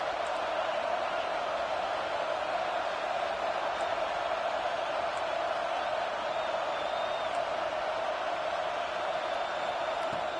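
Stadium crowd roars steadily in a college football video game, Ohio State versus Nebraska, as a loud, unbroken wash of noise rises ahead of a red zone stop.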